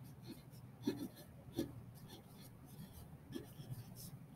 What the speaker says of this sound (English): I am going to write the definition underneath here for cell membrane